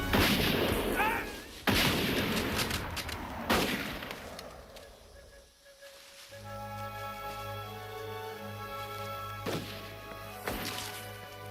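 Battle-scene gunfire from a Spanish-American War era cavalry charge: heavy booming shots and scattered rifle cracks ring out repeatedly over shouting and commotion, with a lull in the middle before further loud reports.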